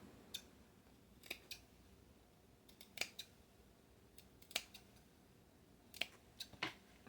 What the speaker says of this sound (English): And I'm going to snip my main curves.